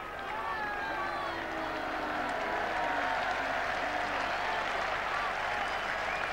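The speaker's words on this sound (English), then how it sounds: "And again, this big crowd giving vent to their feelings." Big cricket crowd at a 1981 England v Australia Test match at Old Trafford applauds a fifty partnership with sustained, dense clapping and a broad crowd roar, steady throughout, with a commentator talking over it.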